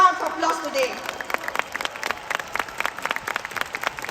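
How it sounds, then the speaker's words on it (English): Applause breaks out for Vietnamese guests at a Riway International corporate event, a crowd clapping at moderate volume, with a voice over the first second before the claps continue steadily to the end. "Can we give our Vietnamese brothers a round of applause today?"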